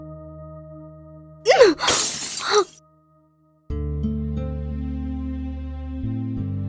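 Glass breaks in one sharp, loud crash with a bright spray of tinkling shards, set between stretches of held musical tones.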